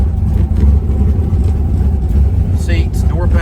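A car engine idles low with a steady deep rumble, close by, while a voice speaks briefly near the end.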